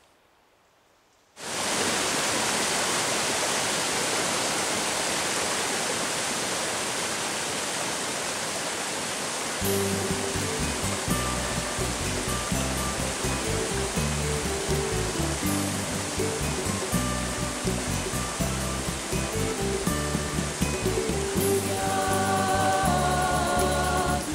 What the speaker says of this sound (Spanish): Hemos llegado a una de las gargantas de Villanueva y su espectacular cascada